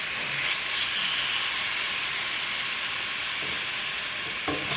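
Mahi-mahi fish fries in a pan with a steady, close hiss and sizzle, occasional soft stirring scrapes, continuous and even throughout with no talking.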